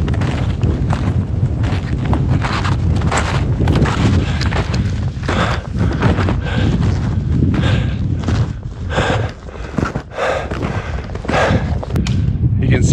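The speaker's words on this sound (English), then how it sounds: "it's hard to have this wind blowing" Strong gusty wind on a mountain in winter buffets the microphone in heavy roaring bursts, with faint thumps and a voice partly buried underneath.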